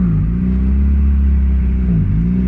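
A Honda Civic Si with a full 3-inch exhaust gives a loud, deep droning rumble up close, holding steady with slight pitch dips and rises near the start and end, without any talking.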